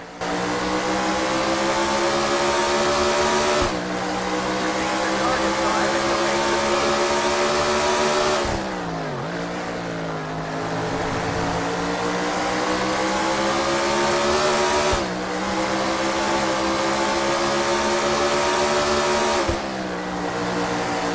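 An LMP race car engine in a racing video game roars continuously at high revs, pitch climbing through gear changes with brief dips at each shift, loud and close with no talk.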